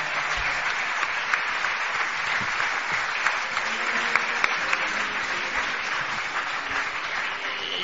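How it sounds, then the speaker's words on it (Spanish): Sustained applause from a studio audience for the youngest member of a Spanish television program's team, dense and steady, with a voice briefly heard over it. "El último aplauso que sea para el miembro más joven de Cuarto Milenio y de Milenio 3."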